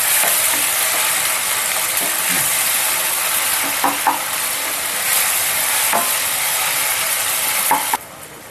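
Prawn curry masala with turmeric frying in a pan, a continuous sizzle with intermittent scraping stirs of a spoon against the pan, close and steady, ending abruptly.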